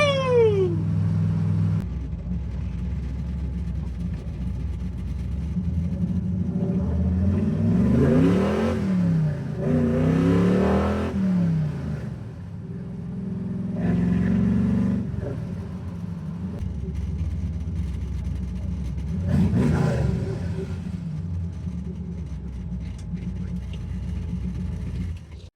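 A 502 big-block V8 in a 1968 Chevelle revs hard in several loud bursts through open exhaust cutouts, with rising and falling roars between steadier idling rumble.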